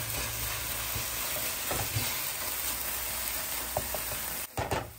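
Onions and garlic sauté with vegetable bouillon paste in a pan, a continuous dense sizzle with a few soft spatula scrapes and a brief break near the end.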